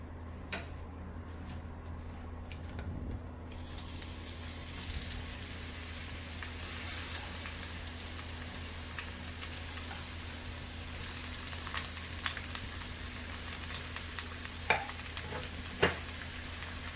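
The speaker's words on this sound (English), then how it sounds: "We have heated up 4 tablespoons of ghee. Now we're going to add in the onions." Onions hit four tablespoons of hot ghee and set off a loud, steady sizzle that carries on evenly, with scattered ticks and light stirring scrapes, close up and without talk.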